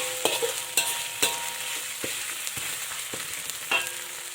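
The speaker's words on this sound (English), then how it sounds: "continue to stir until you can smell the garlic and ginger" Garlic and ginger fry in a pan for an Indian-style crayfish curry, a soft constant sizzle broken by sharp, irregular clacks of a utensil stirring against the pan, close up with no talking.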